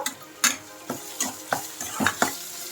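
Salted onions sizzle in a hot pan for tempering while a spoon stirs them in regular scraping strokes, about every half second, close up.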